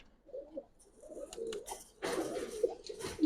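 Pigeons coo in short, soft phrases, kept for sale by a pigeon seller. The calls come one after another, with a louder rustling, noisy stretch later and a clearer coo at the very end.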